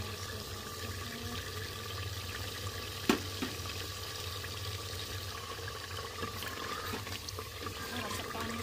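Water poured into a pot of chicken and gourd cooking on the stove, a steady soft splashing and trickling with one sharp clink partway through, fairly faint against a low background hum.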